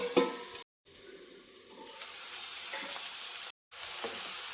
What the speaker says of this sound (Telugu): చూసారు కదా, బాగా ఫ్రై అయిపోయాయి బీన్స్.